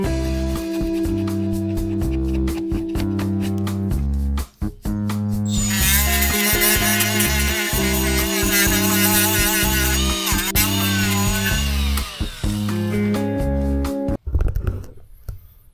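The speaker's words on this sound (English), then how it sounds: "or you have a grinding disc on the end here. This is a, I think it's a 3M lock pad" A power tool fitted with a 3M lock pad disc cleans old gasket material off a metal surface during axle seal and bearing work on a John Deere 855, a steady abrasive whir lasting several seconds over a continuous tonal background.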